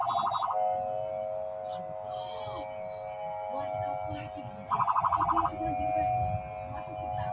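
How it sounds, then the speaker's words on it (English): An ambulance siren wails with a steady pulsing tone and periodic rapid warbling bursts, fairly loud nearby on a West Bank street, while people talk underneath. "There's an ambulance coming, blocking an ambulance."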